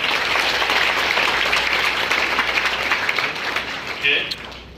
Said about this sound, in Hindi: इनके लिए एक बार जोरदार ताली होनी चाहिए